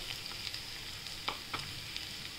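Vegetables such as carrot and bell pepper sizzle faintly in a pan while being stir-fried for corn rice, a soft steady hiss with a few light clicks and spatters.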